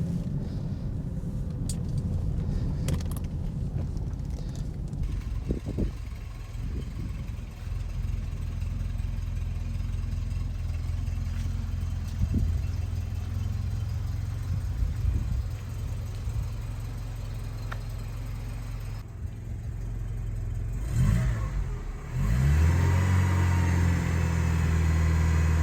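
A Vauxhall Cavalier mk2 car's engine hums steadily at moderate loudness from inside the car for a long stretch, the tone shifting near the end as it pulls up through the gears toward third.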